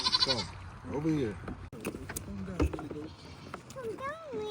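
A goat on a farm bleats several times in short, wavering calls close by, alongside people talking nearby.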